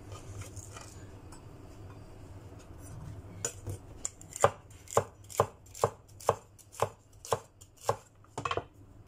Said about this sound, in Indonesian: Kita iris nyerong-nyerong kayak gini ya